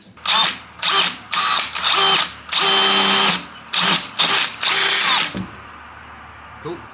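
A power drill with a 3/16 drill bit bores into a car hood through a depth-limiting jig, running in about seven short bursts with brief pauses between them, loud and close, then stopping.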